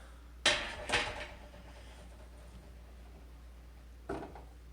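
A small fryer pot's lid clatters as it is lifted and set aside, giving two sharp metallic knocks close together near the start and a softer third clank a few seconds later, with quiet in between.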